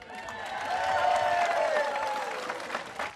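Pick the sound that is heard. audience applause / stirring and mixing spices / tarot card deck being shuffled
audience applause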